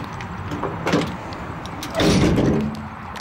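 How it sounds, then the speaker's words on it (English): Unlocking the bed of a 2014 Ram 3500 dually Tradesman with a Cummins: a couple of short mechanical clunks and a louder latch thud over faint background noise, close by, no talking. "I'm gonna unlock the bed."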